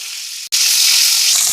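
Pieces of fish fry in hot oil, giving a steady, bright close hiss that cuts out for a moment near the start and then resumes at full strength.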